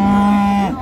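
A calf at a livestock market gives one loud, close moo with a steady tone that dips at the end.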